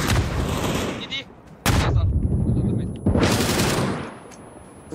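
Bursts of gunfire in a shooter video game, loud and close, with rapid volleys in three clusters separated by brief lulls.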